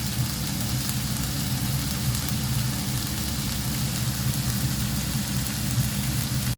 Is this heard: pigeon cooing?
no